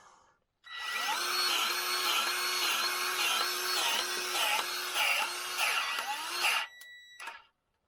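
Milwaukee M12 cordless grease gun running as it pumps grease into fittings, a steady whining motor with regular pulsing strokes for about six seconds before it cuts off, close and alone.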